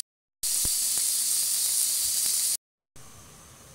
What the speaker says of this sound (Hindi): ये हमारा शामी कबाब फ्राई हो रहा है।